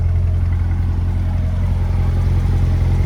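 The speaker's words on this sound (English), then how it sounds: "So that is your performance exhaust." Performance exhaust on a 2023 Corvette 2LT Z51 burbles at idle, a continuous low throaty drone close by with slight pulsing, steady in level and free of speech.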